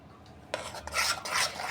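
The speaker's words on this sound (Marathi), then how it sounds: "आणि हे मिश्रण चांगले मिक्स करून घ्यायचे आहे" Dhokla batter is mixed in a bowl with a spoon, giving a soft, continuous scraping and swishing that starts abruptly and carries on in uneven strokes. It is fairly close and quiet, with no voices.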